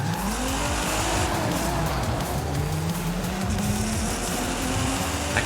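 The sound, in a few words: car engine in a video game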